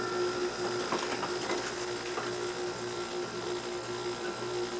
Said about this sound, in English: It kicked on. Compressor's running.